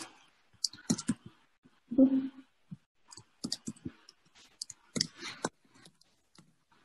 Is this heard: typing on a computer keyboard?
yes